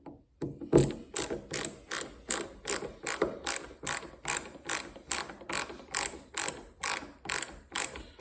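A Hart ratcheting screwdriver clicks while tightening, sounding as an even run of crisp, close ratchet clicks in a steady rhythm of about two per second, heard alone.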